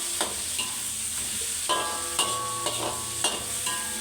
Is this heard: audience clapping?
no